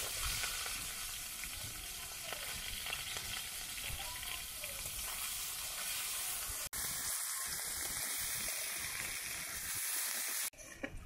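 Onion and green chilies sizzle steadily in hot oil with panch phoron, a dense continuous frying hiss close by with occasional stirring, briefly interrupted near the end.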